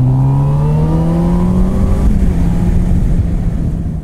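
A 2018 Honda CB1000R Neo motorcycle engine revs and accelerates, its rising whine climbing steadily through the gears before breaking into a rougher, louder roar near, with no voices.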